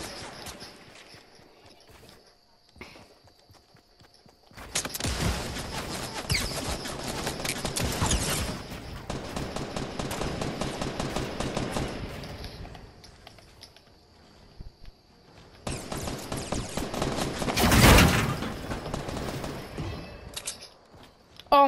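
Rapid gunfire from Fortnite, heard in two long sustained bursts of dense crackling shots with a short pause between them and a louder blast near the end, mixed with faint voices.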